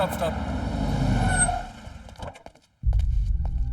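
A car on the road in a Hindi-dubbed action film rumbles along and winds down to a stop, its engine fading to near silence before loud talk breaks in.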